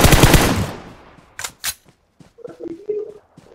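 Gunfire in the video game PUBG: a burst of rapid automatic fire fading out, then two sharp separate shots, followed by fainter clicks and game sounds.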